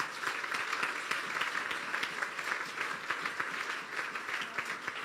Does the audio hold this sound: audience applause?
yes